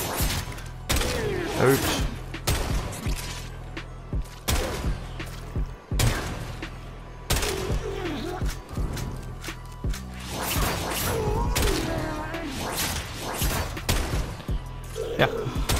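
Strun Wraith shotgun fire in Warframe, mixed with other combat effects: several heavy, scattered blasts and thuds ring out across the clip beneath steady talking, punctuated by brief gaps.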